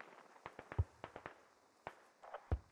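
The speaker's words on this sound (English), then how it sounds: "those mortars are out, Evan." Mortar fire in the military shooter game Squad shows as a scatter of sharp, faint distant thuds and cracks, irregularly spaced, with a couple of deeper booms.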